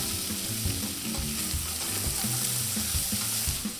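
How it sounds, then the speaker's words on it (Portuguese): Chopped onion frying in a pan while being stirred, a steady loud sizzle with continuous scraping and clattering of the spoon against the pan bottom. "mexa bem"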